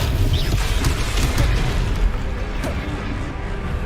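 Confringo fire spells burst in Hogwarts Legacy with heavy, rolling booms and crackling blasts that overlap into a constant loud rumble.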